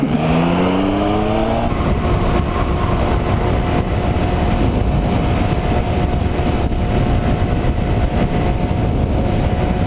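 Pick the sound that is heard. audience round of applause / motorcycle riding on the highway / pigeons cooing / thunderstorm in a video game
motorcycle riding on the highway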